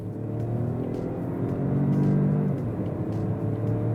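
A 2024 Peugeot 2008 engine while driving, a steady low hum with a slight rise in revs, heard from inside the cabin with no talk.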